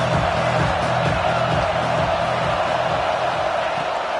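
Steady, loud crowd roar from a football game stadium, a dense continuous wash of cheering and whooping voices with no pauses throughout.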